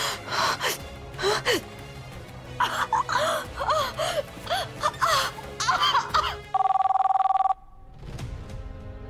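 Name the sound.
telephone ringing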